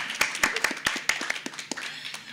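Scattered hands clapping at a closing session of a children's and youth literature event, a modest group giving distinct, uneven claps that ring out clearly at close range without talk over them.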